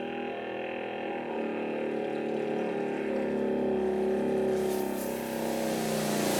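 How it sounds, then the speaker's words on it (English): A Makita DUS054Z cordless garden sprayer's pump keeps up a steady motorized hum and whir, rising slightly in pitch and intensity partway through, with a faint hiss layered on top. "I shall just pull the trigger and hopefully it'll start spraying"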